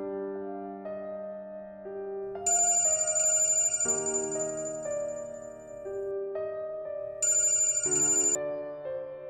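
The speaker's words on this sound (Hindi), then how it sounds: "अरे बिटिया, महावेश का फोन होगा" A telephone ringing in a drama series, heard as a melodic ringtone of repeating tonal phrases, with brighter bursts between calmer passages, clear and close with no voices over it.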